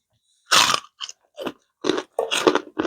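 Very crispy fried pork rinds crunched up close in the mouth, six or so sharp, loud crackling bites and chews separated by short silent gaps.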